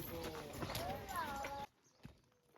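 Horses being readied at a local horse gathering in Calabria, with busy clip-clopping hooves under a crowd and chatter, then the noise cuts out abruptly to near quiet with a few faint knocks.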